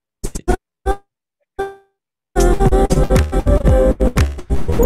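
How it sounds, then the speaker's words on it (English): Soloed bass track from a music mix, crunchy and distorted in the upper range: a few short separate plucked notes with gaps, then a dense, loud continuous bass line running to the end. "The bass sounds a lot crunchier when you have it soloed."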